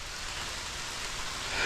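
Steady rain falls on a wet morning, a close, even hiss of drops with no pauses or other sounds.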